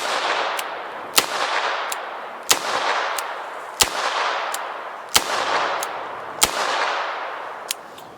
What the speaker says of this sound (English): Now we're going to shoot one cylinder with the 32 Smith & Wesson long